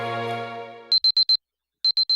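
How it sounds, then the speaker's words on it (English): A beeping alarm from the visual novel I/O, with four rapid high-pitched beeps, then a short silence and three more, sounding after a fading low electronic tone. "a sound like an alarm cuts through the silence"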